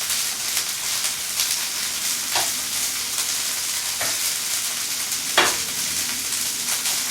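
English peas and onion sautéing in olive oil, a continuous bright sizzle up close with a few sharp stirring clicks and scrapes, with no voices.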